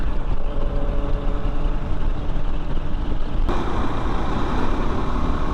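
Motorcycle on a highway ride, KTM 390 Adventure or Kawasaki Z800, heard as loud engine drone and rushing wind that shifts abruptly partway through as the bike leans, with no talk.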